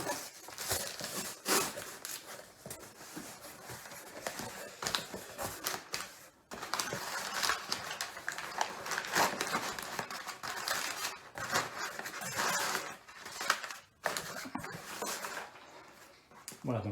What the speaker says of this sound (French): nous allons déballer la boîte